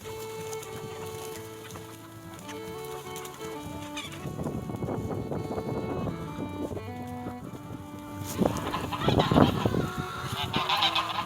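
Several geese honk repeatedly at close range, a noisy overlapping chorus that grows busier and louder toward the end, with other fowl clucking among them.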